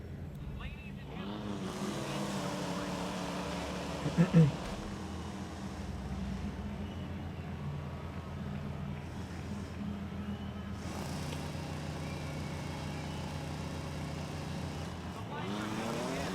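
Cars race in the mobile video game Car Parking Multiplayer 2, a steady engine drone with rising and falling revs and a brief bump, heard under game audio without clear pauses.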